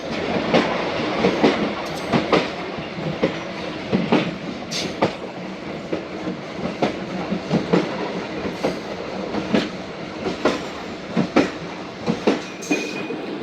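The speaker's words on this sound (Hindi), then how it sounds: "बस्ती दरवेश लाशारी स्टेशन पर ट्रेन का अराइवल हुआ है हमारी" A shuttle train on the Multan to Dera Ghazi Khan line arrives at a small station. Wheels give a steady, loud clickety-clack beat under a continuous rail rumble, with faint squeals now and then. No voices are heard.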